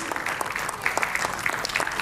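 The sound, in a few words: award ceremony audience applauding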